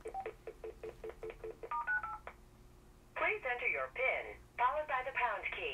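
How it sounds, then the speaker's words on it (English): An AT&T DECT 6.0 CL82407 cordless phone auto-dials a stored number, a quick run of short touch-tone beeps followed by a few longer tones, then a recorded voicemail voice begins speaking. "It brings that number and dials."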